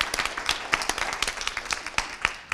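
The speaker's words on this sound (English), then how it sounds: "Give them a round of applause." Round of applause at a residents' association meeting, honoring bylaws committee members; many hands clapping in a steady, moderately loud indoor burst with no talk over it.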